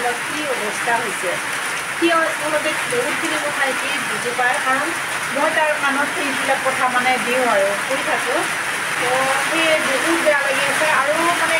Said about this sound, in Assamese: বৰষুণ ইমান জোৰকৈ আহি আছে আপোনালোকে নিশ্চয় শুনিব পাৰিছে